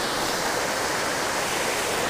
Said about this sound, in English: just kind of fishing this little waterfall, and there's some moving water